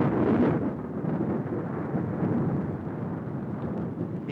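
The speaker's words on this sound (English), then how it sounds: "If only it isn't another dry storm." Thunder from a dry storm rolls as a deep, continuous rumble, strongest at the start and then steady and moderately faint, with no rain evident.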